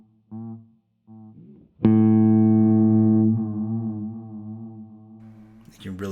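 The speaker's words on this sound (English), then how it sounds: "You can really hear that waver and the echo after the note stops." A Dr. Scientist Sunny Day delay pedal on an electric guitar: a few short plucked notes, then a loud sustained note whose tail wavers and echoes on after it fades, ending with a brief noisy burst.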